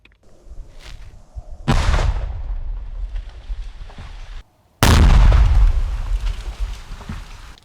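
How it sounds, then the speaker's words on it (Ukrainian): Two loud, close demolition explosions blowing up military positions, a booming blast followed later by a second, even heavier one, each rumbling and decaying with debris noise. "Вибух на 3, 2, 1."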